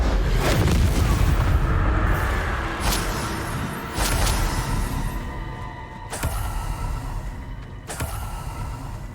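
Incendio fire spell cast repeatedly in the Hogwarts Legacy video game, a series of loud booming bursts with whooshing fiery roars, several distinct blasts over a dense rumbling background.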